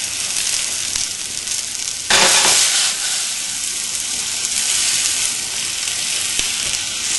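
Steady sizzling hiss of vegetables stir frying in a pan at full heat, with a brief louder burst of crackling partway through.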